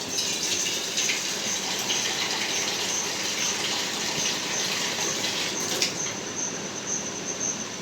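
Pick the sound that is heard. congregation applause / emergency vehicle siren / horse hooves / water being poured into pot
water being poured into pot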